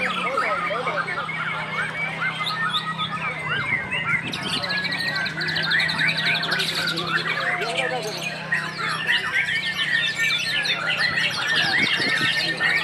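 Many songbirds, including a white-rumped shama, chirp and whistle at once in a dense, continuous chorus at a songbird contest, with bright trills and squawks over a steady low hum.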